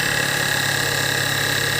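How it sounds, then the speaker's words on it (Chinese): Recently overhauled car engine idling with an abnormally loud, steady droning hum, suspected low oil pressure, heard close and unbroken, with a constant mechanical whine and vibration. "就是这种啊，嗡嗡嗡的声音。"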